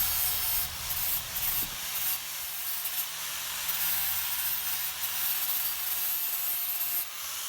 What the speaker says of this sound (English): This is a pretty worn 400 grit flap disc. I'm just smoothing and trying to highlight a bit.